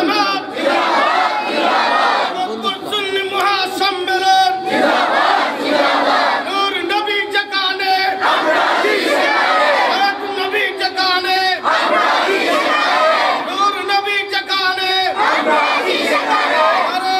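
A large crowd at a religious gathering at a madrasa ground chants the Nara-e-Takbir slogan in loud, rhythmic call-and-response waves that continue without a break.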